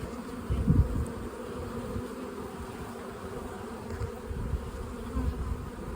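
Honeybees at a late-season bulk hive split give off a steady, close, low buzzing hum, with a few louder swells as bees pass near.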